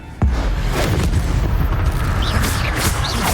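An Incendio fire spell in Hogwarts Legacy goes off with a sudden loud boom, then a sustained roaring blast of fire with faint shrill accents running underneath.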